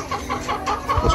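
Chickens on a farm kept for worming care, clucking in a steady low-level flock murmur through the clip, with a slightly louder burst near the end and no talk.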